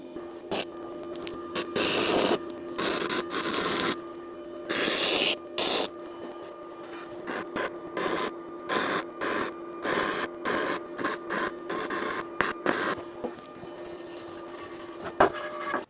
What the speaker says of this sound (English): I don't spend much time doing gasless welding, but this thing really has some punch